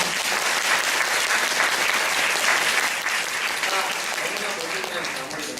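A theatre audience applauds after a stage play, a thick, continuous wash of clapping that stays strong for the whole stretch, easing slightly toward the end.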